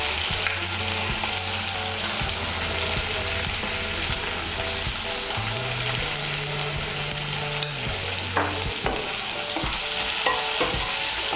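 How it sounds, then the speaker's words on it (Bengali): Chopped tomato fries in hot oil for a Bengali rui fish curry, giving a loud, constant sizzle with intermittent stirring and scraping in the pan. Some low mechanical hums are also present, and no one speaks. "টমেটো কুচিটাকে একটু ভেজে নেব।"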